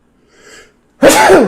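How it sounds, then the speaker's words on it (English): A single loud, close sneeze bursts out after a brief soft inhale, standing alone with no talk over it. "I got to sneeze."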